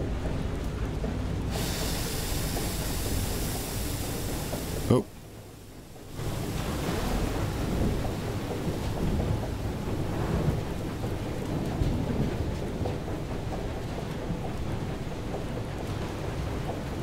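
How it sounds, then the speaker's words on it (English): Thunder rumbles and rain pours steadily during a thunderstorm in the video game Far: Changing Tides, one heavy crack rising out of dense noise, then the downpour resuming loud and continuous. "Looks like another storm, possibly."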